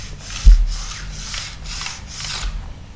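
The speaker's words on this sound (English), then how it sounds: "there you can hear that burr that I was talking about" Sharpening stone rubbing along a ski edge to remove the burr, a series of about five soft rhythmic scraping strokes, close and steady, heard alone.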